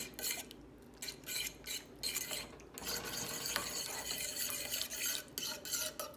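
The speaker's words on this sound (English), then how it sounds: "Make sure you give it a good stir" A fork stirs beaten egg through cooked pasta in a dish for lasagna, a steady scraping and clinking of metal against the bowl that keeps going the whole time without a break.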